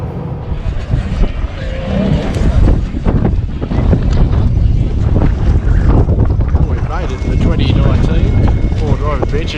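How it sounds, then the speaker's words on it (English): Strong gusting wind buffeting the microphone outdoors at a 4WD adventure show at Eastern Creek, loud rough roaring throughout, with someone talking over it. "Sorry about the noise, it's windy as shit."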